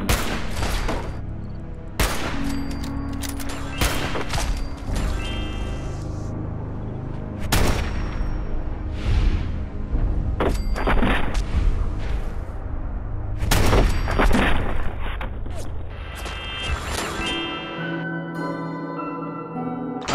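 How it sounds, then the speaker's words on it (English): The Reba II sniper rifle fires in the video game Fallout 4, with several loud, sharp shots spaced a few seconds apart, each ringing briefly over game ambience and bursts of other gunfire. "here's the Reba 2 in action"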